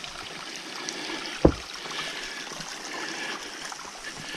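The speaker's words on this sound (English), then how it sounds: "we're going to cross this pretty creek" Water of a pretty creek runs steadily as a faint, continuous hiss and trickle outdoors on a fall hike to Blood Mountain, with one brief sharp knock partway through and no talking.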